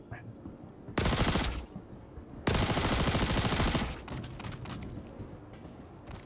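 Rapid automatic gunfire in the Star Citizen shooter game, two loud sustained bursts of closely spaced shots, the second longer, followed by quieter scattered shots and background game noise.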